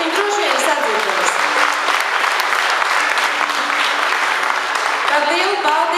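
Dense, continuous audience applause fills a hall at a preschool children's dance group concert, loud and even from start to finish with many hands clapping together.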